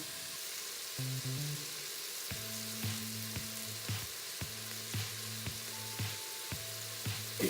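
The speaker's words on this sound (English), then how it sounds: "now we got serious browning going on" Vegetables for a Lebanese musa'a'a stew, salted and past translucent, fry and brown in a pan with a steady close sizzle, interrupted by repeated clattering stirs and scrapes.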